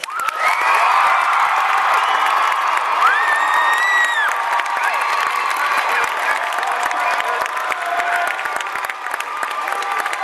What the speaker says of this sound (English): we also wanted to have you join us in a round of applause for each of your music directors